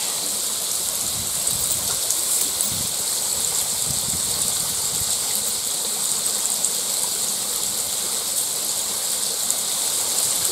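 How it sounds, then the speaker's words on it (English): A stream of water flows continuously outdoors, a steady, close rushing and gurgling that stays even throughout with no voices. "Hang on, it's the same stream."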